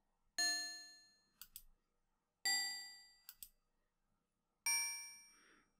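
Bells in the 1992 DOS adventure game The Legend of Kyrandia ring three times at even intervals, each a bright metallic ding that decays slowly, followed by short faint clicks, with no talking.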